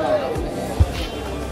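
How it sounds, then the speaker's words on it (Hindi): A dense crowd at Hanumangarhi temple in Ayodhya fills the air with a steady murmur of overlapping voices and shuffling, broken by one short dull knock midway. "हम देख सकते कितनी भीड़ है यहाँ पे"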